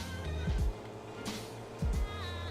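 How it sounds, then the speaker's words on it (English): Car engine in Forza Motorsport 7 running in too high a gear, a low, quiet, subdued hum with two brief louder thumping bursts, near and without talk. "listen to how quiet the engine is right now."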